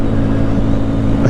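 A Sonlink SL 150KD motorcycle engine of 150cc drones loud and steady up close while accelerating in gear, a continuous buzzing roar with no break.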